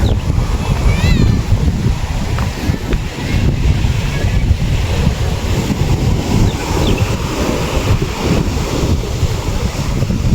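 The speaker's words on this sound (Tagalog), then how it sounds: "Yan, napakaalon po." Rough sea waves churning under strong wind at a beach cottage, with a constant roar of surf and heavy wind buffeting the microphone, loud and continuous, faint voices and children in the background.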